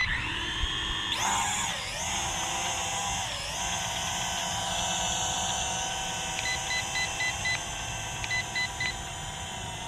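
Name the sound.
FQ777 quadcopter drone motors taking off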